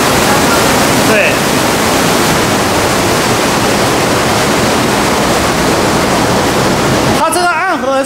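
An underground river rushes steadily through a cave in Guizhou, a loud, unbroken roar of water filling the whole stretch, with a voice starting to talk near the end.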